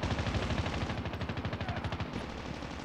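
Rapid bursts of automatic gunfire in Call of Duty Mobile, loud and steady, with rhythmic pulsing shots and a few heavier thuds mixed in.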